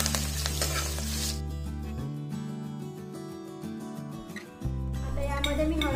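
Green chillies sautéed in oil for South Indian lemon rice, a continuous close sizzle with light stirring clinks, running under prominent background music.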